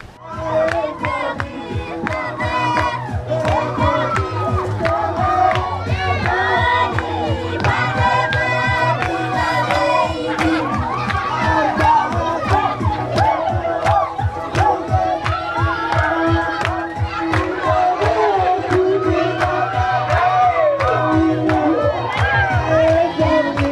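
A Marshallese holiday dance challenge at Gospel Day on Namdrik Atoll, with a dense, loud crowd shouting and cheering and children's excited screams, all over a steady rhythmic beat and music.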